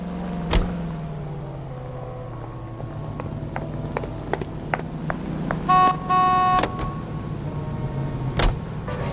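A 1940s car drives through Los Angeles in the crime game L.A. Noire, its engine a steady low drone, with scattered sharp ticks and clicks and a short mechanical whir partway through.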